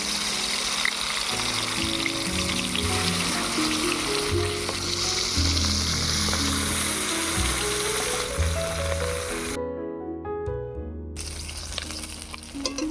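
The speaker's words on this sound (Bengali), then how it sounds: "তেল গরম হয়ে গিয়েছে, এবার মাছগুলো ভেজে নেব" Fish pieces fry in hot mustard oil, a loud continuous close-up sizzle and crackle that holds steady, with a brief drop near the end before resuming.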